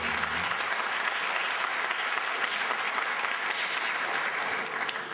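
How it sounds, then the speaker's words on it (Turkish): An audience at an evening poetry gathering in Kayseri, Turkey bursts into loud, sustained applause, close and continuous, with dense overlapping claps and no talking. "Bir daha alkışlar."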